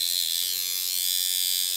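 A DMC tattoo machine runs on its passive setting, giving a steady, even electric buzz that holds without a break for the whole stretch, close and alone.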